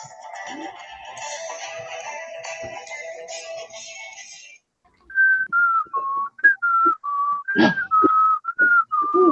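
A person whistles a tune, first a wavering melody over faint background music, then clearer, louder whistled notes in a bouncy rhythm.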